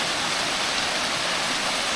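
Steady, dense roar of falling water at the Folly Dolly waterfall among rusty-coloured rocks, a constant broadband rush heard close and alone with no voices.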